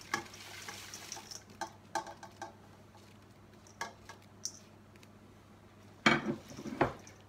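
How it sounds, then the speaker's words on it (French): Eggplant pieces being stirred in a pan for lumaconi alla parmigiana, giving soft scraping and clinking strokes at a steady pace, with a louder burst of stirring near the end and no talking. "Et je mélange le tout."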